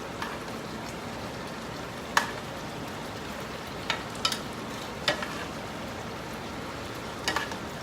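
Pork pan-frying, a constant crackling sizzle at moderate level punctuated by several sharp pops and spits scattered across the clip.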